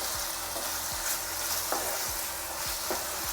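Brinjal and tomato fry in a pan with a continuous close sizzle, broken by regular scraping strokes of a stirring spoon.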